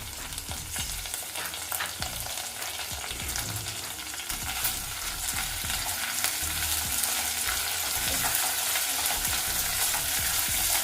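Ginger-garlic paste and mint are stirred in a hot pan, with a steady close sizzle under repeated scraping strokes of a spoon that grow slightly louder as cooking goes on.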